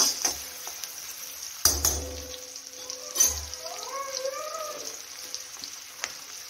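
Onion, cabbage and chili fry in a pan with a soft sizzle, broken by sharp clinks and scrapes of a spoon stirring against the metal, with a faint clattering of utensils.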